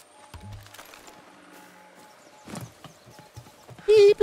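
Light rhythmic hoofbeats of a horse clip-clopping in Far Cry 6, with scattered thuds, a brief whinny-like tone and a loud beeping burst at the end.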